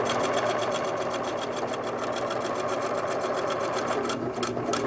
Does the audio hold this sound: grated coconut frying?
no